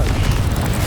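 Blasting spell explosion in the Hogwarts Legacy video game, a dense low rumbling boom that stays loud through the whole short moment with no pause.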